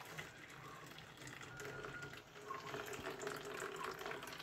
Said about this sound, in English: this is the juicing of the coconut right now. Into my bowl right here, some lovely coconut milk